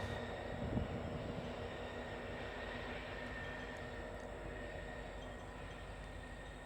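A Norfolk Southern freight train with two end-of-train distributed power units rumbles past in a steady, continuous roar of engines and rolling cars, heard at moderate distance with no talk.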